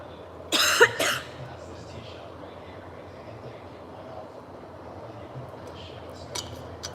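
A single short burst of coughing up close, two quick coughs, then quiet room noise with faint murmurs.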